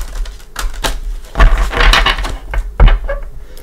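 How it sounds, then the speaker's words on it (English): Mother Mary oracle cards being shuffled by hand, a close series of crisp riffling slaps and taps in uneven bursts, with two sharper thumps standing out near the middle and end, no talking. "let's give Mother Mary a couple shuffles"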